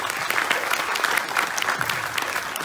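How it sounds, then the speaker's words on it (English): A round of audience applause for a professor after a lecture, with brisk, continuous clapping from a modest crowd at fairly close range for under three seconds. "Maybe another round of applause."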